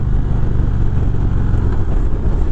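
A 2019 Indian Springfield Dark Horse with a 111 cubic inch V-twin engine runs loud and close, a steady deep throbbing rumble with no voices over it.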